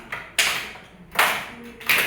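Hands clap sharply in a counted classroom clapping exercise, a few claps spaced unevenly across about two seconds, close and crisp with no talking over them.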